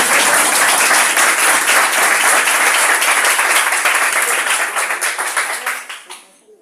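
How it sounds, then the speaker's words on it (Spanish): Lecture audience applauding loudly and steadily, a dense wash of many hands clapping together that holds for several seconds before thinning out and fading at the end. "Muchísimas gracias por el aplauso,"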